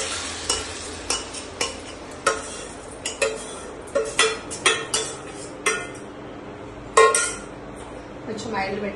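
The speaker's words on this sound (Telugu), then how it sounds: "ఇప్పుడు నేను దీంట్లో చికెన్ కొంచెం ఒక 10-15 మినిట్స్ ఫ్రై చేస్తాను" Chicken pieces coated in masala fry in a little oil in a cookware pan for biryani, with a steady sizzle broken by repeated close clinks and scrapes of a spoon stirring against the pan.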